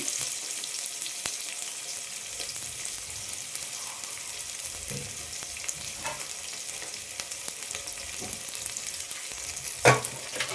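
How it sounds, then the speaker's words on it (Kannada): Sliced onions dropped into hot oil for bagara rice sizzle steadily and loudly at close range, a continuous hiss with occasional stirring knocks and no talking. "ಎಣ್ಣೆ ಬಿಸಿ ಆದ ತಕ್ಷಣ 2 ಕಟ್ ಮಾಡ್ಕೊಂಡಿರೋಂಥ ಈರುಳ್ಳಿ ಹಾಕ್ಕೊಂಡಿದ್ದೀನಿ."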